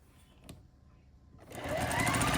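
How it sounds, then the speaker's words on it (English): A sewing machine chain piecing quilt block units starts up after a quiet moment and a single click, then runs at a steady, loud whirr to the end. "We're going to sew these units on"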